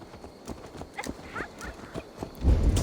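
Horse hooves clip-clop in Assassin's Creed Valhalla, a steady run of close, distinct hoof strikes that swells into a louder, heavier rumble near the end.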